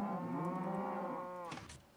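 A Minecraft cow moos in one long, drawn-out, harmonic low call that fades near the end, with a brief scuffling sound from the game over its close. No one speaks.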